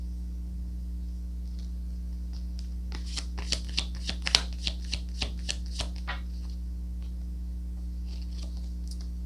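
A deck of Lenormand fortune-telling cards is shuffled by hand in a quiet room over a steady low hum, giving a clear run of crisp riffling flicks and taps near the middle before it tapers off.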